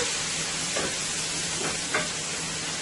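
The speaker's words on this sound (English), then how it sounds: "I'm going to let this saute for about 2 to 3 minutes before I go ahead and add my beef." Onion, celery, basil, garlic and scallion sautéing in a pot for a beef and squash stew, a constant loud sizzle with three short stirring scrapes, close by and with no voices.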